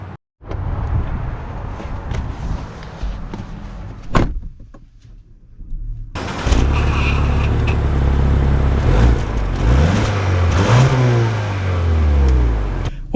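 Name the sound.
2024 Lincoln Nautilus car driving off, engine accelerating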